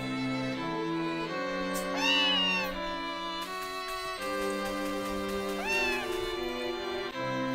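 Cats meowing in the GameCube farming game Harvest Moon: Another Wonderful Life: two clear rising meows over a steady looping game music backdrop, close and distinct.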